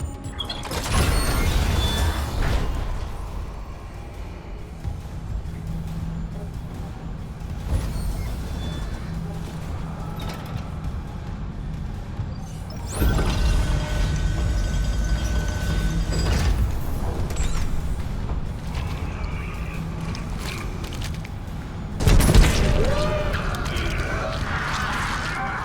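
Elevator machinery in the Dead Space video game grinds and hums steadily, with heavy mechanical clanks and rumbling surges at the start and end, under a dark ambient drone.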